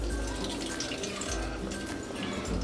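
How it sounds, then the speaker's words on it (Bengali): Water dripping and trickling from squeezed homemade paneer curds wrapped in cloth, a steady close splashing stream with small drips and no talking. "জলটা আমি একটুখানি চিপে ফেলে দিচ্ছি।"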